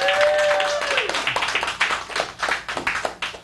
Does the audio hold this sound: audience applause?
yes